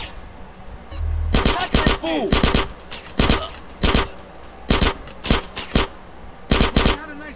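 Submachine gun fire in GTA San Andreas, repeated short loud bursts of rapid shots separated by brief pauses, with a few spoken words between them.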